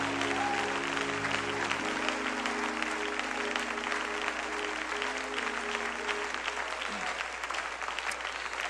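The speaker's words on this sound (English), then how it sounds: "Let's clap our hands unto Jesus." A church congregation claps hands together in praise to Jesus, a dense, sustained wash of applause carrying on steadily, with a low organ-like held tone fading out early.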